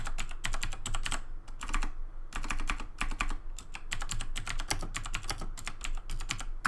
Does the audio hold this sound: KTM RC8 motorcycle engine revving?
no